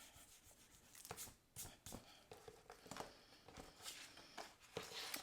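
Eraser rubs on a handmade paper card in short, soft scrubbing strokes, quiet and close, with small pauses between the rubs and no talking.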